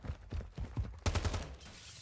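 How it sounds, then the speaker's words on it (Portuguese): Bursts of video game gunfire in Call of Duty Warzone 2.0, several sharp shots in quick rhythmic succession followed by a louder, denser volley, moderately close with no talking. "tem alguém atirando aí"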